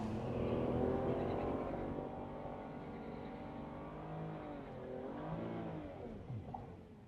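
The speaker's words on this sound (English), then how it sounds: "Not a bad burnout." A BMW E90/E92 335i with the N54 engine doing a burnout at a drag strip, a loud, sustained engine roar with shifting revs, close up and alone, easing slightly midway before rising again.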